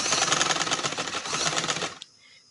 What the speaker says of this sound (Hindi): थोड़ी सी सिलाई लगा के थोड़े से वक्फे पे